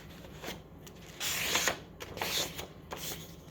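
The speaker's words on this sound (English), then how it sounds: "And you're gonna fold it in half" A sheet of printer or construction paper being folded in half and creased, giving close, faint crinkling and sliding rustles in several short bursts.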